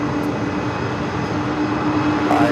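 An airliner taxis at LAX, heard outdoors as a loud, steady engine roar and whine that holds evenly throughout, with no talking.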